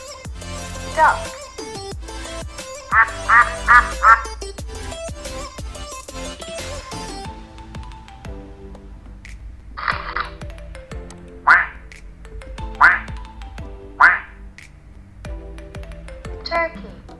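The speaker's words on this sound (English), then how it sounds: "duck," A duck quacks in quick bursts of several loud, nasal calls, with a few more spaced single quacks later on and brief speech in between.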